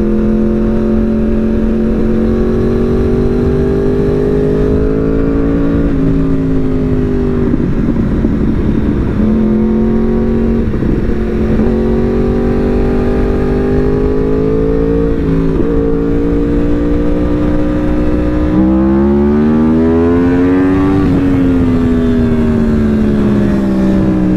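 A loud Yamaha R1 superbike engine revs and drones continuously on a street in Jammu, pitch climbing and dropping through several gear-like swells, close and dominant with no talk.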